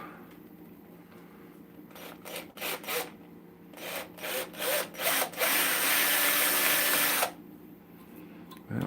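A wooden Christmas ornament is parted off on a wood lathe: a burst of short scraping cuts is followed by a sustained loud tool hiss for a few seconds, then the cutting stops abruptly while the lathe hums on.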